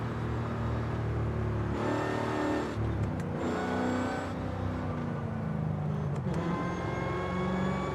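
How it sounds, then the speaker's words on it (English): Car engine in the Forza Horizon 5 video game, a modified car in free roam: a race-car-like engine drones and rises in pitch through gear changes, revving up and easing off, loud and without talk. "Sounds like a race car."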